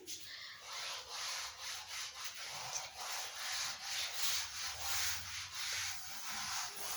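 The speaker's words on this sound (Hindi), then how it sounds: "ये आप देख लीजिए डायग्राम, इसको मैं रब कर देती हूँ" A diagram is rubbed off a board with steady back-and-forth scrubbing strokes, a soft rhythmic rasping that is close and moderately quiet, with no talk.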